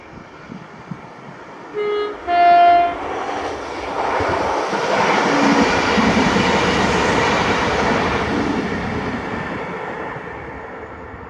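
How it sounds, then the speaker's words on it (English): A ScotRail passenger train on the Edinburgh to Glasgow Queen Street service passes by. Two short horn toots sound first, then the rolling rumble of the train builds, holds loudly and gradually fades. "Then this is 2J53, the 1754 ScotRail service Glasgow Queen Street from Edinburgh."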